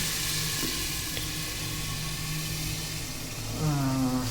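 Onions fry in a pan with a steady, even sizzle close by, mixed with a low background hum and a brief tonal whine near the end.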